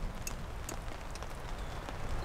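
Rain falls steadily on a tent in a wild, deer-inhabited area, a dense continuous patter with scattered sharper drop taps close by, no talking.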